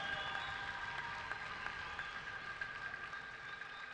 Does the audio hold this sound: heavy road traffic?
no